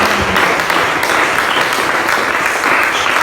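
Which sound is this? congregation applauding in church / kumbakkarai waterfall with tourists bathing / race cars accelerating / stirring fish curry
congregation applauding in church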